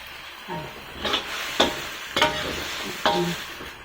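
Vegetables for Japanese curry stir-fried in a pan, with a steady sizzle and a few sharper scraping stirs of the spatula at regular intervals, close by and moderately loud, with no talking.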